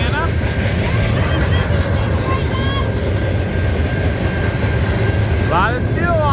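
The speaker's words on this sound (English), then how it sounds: "heard this train while we're at home" A Norfolk Southern freight train heavy with steel passes at night near a home in Milltown, Indiana, its continuous loud rumble and wheel screeches filling the scene while a voice speaks over it.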